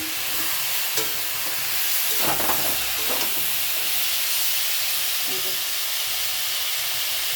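Giant taro (mankochu) frying in a pan, a loud, steady, close hiss and sizzle of hot oil that runs without a break, with faint scraping stirs underneath.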